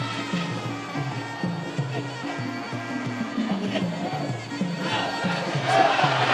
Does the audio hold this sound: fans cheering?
yes